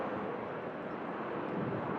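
A Jet2 Boeing 757 departing Manchester Airport during Storm Lilian, a broad distant roar of jet engines mixed with wind buffeting the microphone, steady over the whole stretch.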